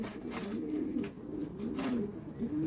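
Domestic pigeons coo steadily at close range, with soft low rolling calls repeating throughout and no talking.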